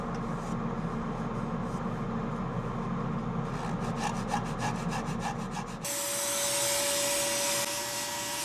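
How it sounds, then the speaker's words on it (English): A cedar bowl being sanded smooth by hand, a steady close rubbing and scraping with a rhythmic stroking pattern midway, then a continuous whirring hum takes over near the end. "There are 1 or 2 rough spots that I'll sand smooth by hand."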